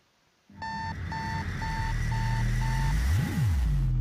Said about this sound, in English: Has the sound of a supersonic bomb with a beeping going on